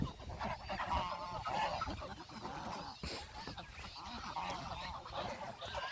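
White king ducks, large geese kept in a yard, honk repeatedly nearby in overlapping nasal calls, several birds sounding at once in an uneven chorus.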